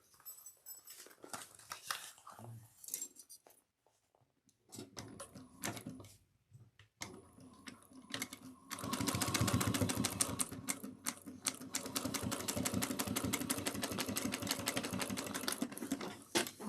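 A sewing machine stitches the gusset seam of a small cross-body bag at a 3/8 inch allowance, first in short stop-start bursts, then in a long continuous rattling run, close up.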